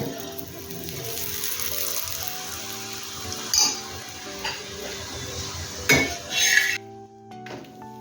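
A multigrain chapati cooks in ghee on a pan, giving a low continuous sizzle with occasional clinks and scrapes of a utensil, then a sudden drop to quieter background.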